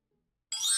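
A smartphone message notification chime sounds once, a bright ringing tone that starts sharply out of silence and rings clearly.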